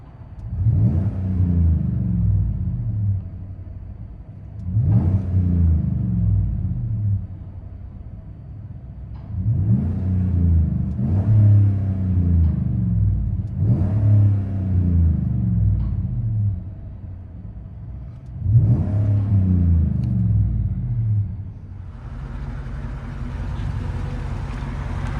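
Deep V8 rumble from a 2015 GMC Sierra with a 5.3L engine and 18-inch Magnaflow exhaust, heard from inside the cab, swelling in several repeated revs over a steady low idle drone.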